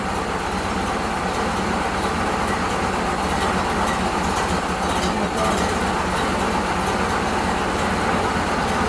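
A 1930 Ford Model A pickup, off the road for decades, idles with a steady, even low rumble and constant mechanical noise, close and fairly loud throughout.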